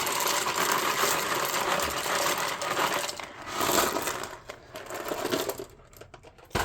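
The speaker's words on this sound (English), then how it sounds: "So now we need to dump in about 8 ounces. I'm using ziti." Dry ziti pasta pours into a slow cooker with a dense, rattling clatter of hard pieces, loud at first, then thinning to scattered clicks and trickles as the pour ends.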